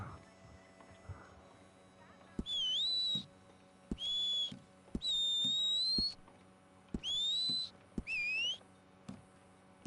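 Rising whistle notes repeat in Red Dead Redemption 2, five short bursts sweeping upward in pitch, interleaved with clip-clopping hooves and soft clicks at moderate loudness.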